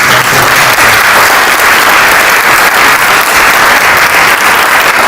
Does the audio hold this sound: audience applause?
yes